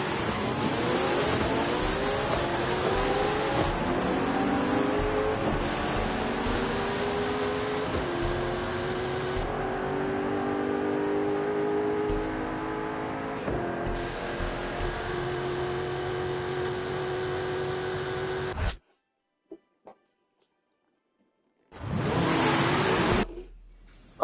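Race car engines rev and roar through a Forza Horizon 5 street race replay, a loud continuous run of rising and falling engine pitch that cuts to near silence before briefly roaring again at the end.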